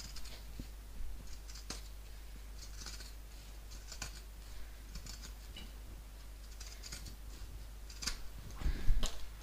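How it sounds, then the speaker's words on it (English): Pinking shears chop through thick layers of handbag fabric in a run of crisp, separate snips, close and moderately loud over a low steady hum, with a slightly louder cluster of cuts near the end. "Pinking shears never seem to be built for bag making,"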